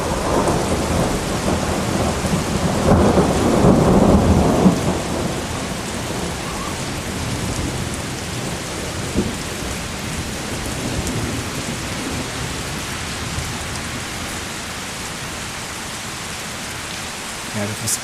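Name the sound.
thunder and heavy rain from intra-cloud lightning strike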